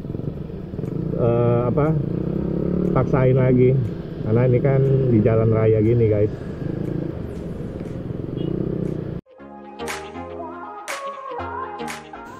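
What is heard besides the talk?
motorcycle with aftermarket exhaust revving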